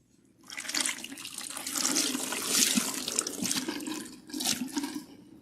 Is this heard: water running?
yes